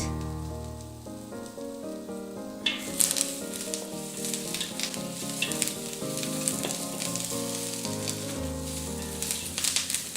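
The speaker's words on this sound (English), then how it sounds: "I'll fry these onions until they begin to caramelize." Onions fry in a hot pan with curry leaves for a chicken curry, giving a continuous close sizzle and crackle that swells after a few seconds and runs under background music without talk.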